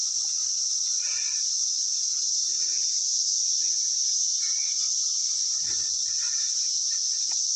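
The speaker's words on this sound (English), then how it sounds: "If you've never seen the cicadas before," Cicadas in Cosby, Tennessee make a loud, continuous high-pitched buzz that drones on without pause, with faint scattered background sounds underneath.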